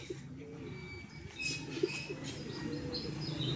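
Pigeons cooing and chirping around a loft during a homing pigeon release, with soft calls scattered over steady outdoor background noise at moderate distance.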